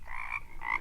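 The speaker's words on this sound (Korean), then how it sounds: "담장밖 개구리 울음은" Frogs croaking beyond a garden wall: a short, close burst of rough, throaty croaks with no talk.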